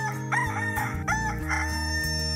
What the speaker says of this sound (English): a rooster crowed and Peter realized what he had done